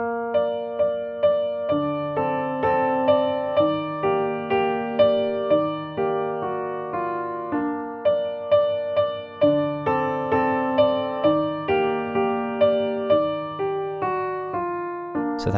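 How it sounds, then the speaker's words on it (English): Solo piano plays the intro riff of a song, with gentle repeated chords and a melodic line in an even, unhurried rhythm, clean and close with no voices. "It's a beautiful piano part and it sounds like this."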